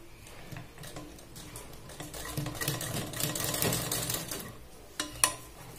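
A sewing machine stitches elastic into the waistband of an Afghani salwar, a steady close mechanical whir and rapid needle chatter running for several seconds, ending with a couple of sharper clicks.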